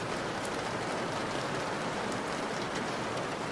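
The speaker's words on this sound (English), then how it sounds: "Oh, I hope the rain sound isn't too loud." Steady rain falls outside a room, heard muffled as a soft, even patter and hiss that continues unbroken throughout.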